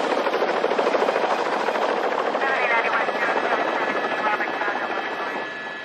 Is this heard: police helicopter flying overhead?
yes